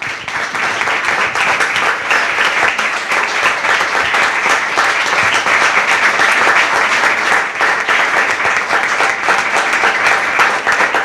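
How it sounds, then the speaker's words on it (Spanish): An audience gives the author sustained applause at a book presentation for a work defending the free market. The clapping is loud, dense and even, and it holds steady for about eleven seconds with no talking over it. "Pido un aplauso para el autor."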